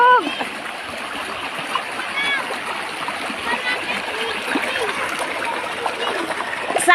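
Clear river water flows and splashes in a steady, fairly faint babble with small trickling detail throughout. Talk is mixed in at times.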